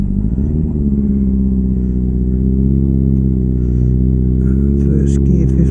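Motorcycle engine pulling hard in first gear around a tight bend on a mountain pass beside a rock face, a steady loud drone close to the microphone, with a rider's voice faintly over it.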